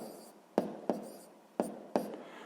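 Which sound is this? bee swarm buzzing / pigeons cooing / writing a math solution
writing a math solution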